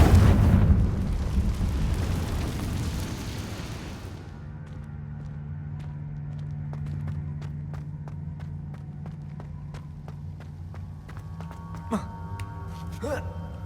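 In Hogwarts Legacy a Confringo fire spell detonates with a loud, broad roaring blast that fades out over about four seconds, followed by quieter game ambience with light footsteps and faint clicks.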